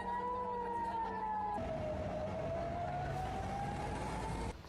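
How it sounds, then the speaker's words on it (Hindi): Air raid sirens wail across Israel, a sustained rising and falling tone that shifts pitch midway, heard steadily and moderately distant against background noise. "सायरन बजे, लोग सुरक्षित जगहों पर भागे"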